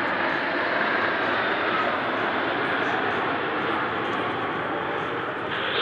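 A display jet at the San Francisco Fleet Week air show roars steadily overhead through a turning maneuver, a loud continuous broadband engine rush filling the whole stretch while an announcer talks over it.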